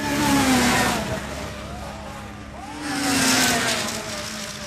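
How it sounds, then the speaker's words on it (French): Snowmobile racing engines at a high-speed race through a small Alaskan town, loud high-pitched revving that swells, dips slightly midway, then surges again as machines pass close by. "une course de motoneige met un peu d'animation dans la ville d'habitude si calme"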